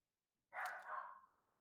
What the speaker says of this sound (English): Sorry if you hear my dog, it's barking